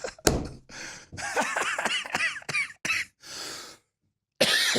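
A man coughing repeatedly, several harsh close coughs and throat-clearing bursts in uneven succession, with a short silent gap before a final cough.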